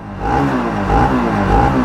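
A BS4 Bajaj Pulsar NS 200 motorcycle engine revs in steady rising pulses, loud and close, with a low throbbing exhaust note and no voices.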